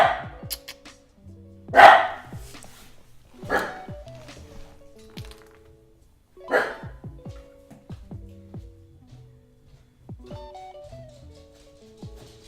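A dog barks in several sharp, spaced bursts, loud and close, with quieter pauses between them.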